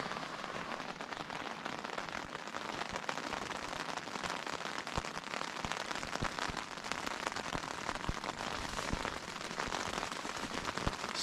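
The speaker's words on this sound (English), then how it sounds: "And it's raining." Rain falls at night on a campsite bunk along the Colorado Trail, a steady close patter with scattered sharper drops and no voices.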